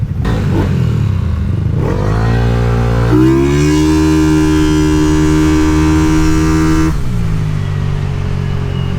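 A Yamaha NMAX scooter with a TSMP aftermarket exhaust revs hard and close, climbing in pitch through a loud sustained blip before settling back to a throaty idle, with no talking.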